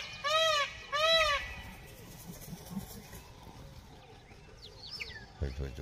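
Geese give two loud, close honks at the start at a mountain camp by a swimming pool, then fainter birds call over quiet outdoor ambience.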